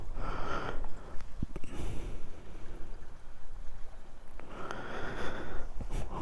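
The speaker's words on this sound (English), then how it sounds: "Sorry about the heavy breathing if you hear it on the microphone." Heavy, close breathing right into a microphone outdoors at Vatersay bay on Barra, with sniffing and snorting huffs and loud breath bursts recurring across the stretch under a steady rushing background.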